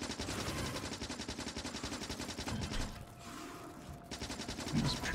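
Turret gunfire in a video game rattles in fast, regular automatic bursts, cutting out for about a second before resuming, fairly quiet and without talk.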